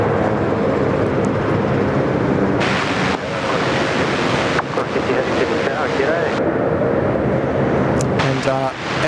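Cathay Pacific airliner rolling on runway 34L at Sydney Airport, a steady, loud broadband jet roar that persists through the whole stretch, with voices talking over it.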